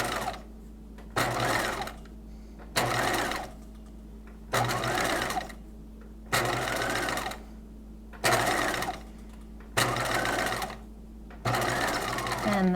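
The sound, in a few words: sewing machine stitching twill tape onto a bodice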